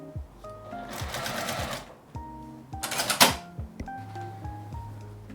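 A sewing machine stitches around the edges and corners of fabric for a pot holder. Two short, close bursts of rapid stitching are heard, the second one briefer and sharper, with small mechanical clicks and handling sounds between them.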